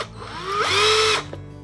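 A power drill bit boring a hole in white Formax PVC foam board, heard as a short whine that rises in pitch and runs for about half a second at close range before stopping.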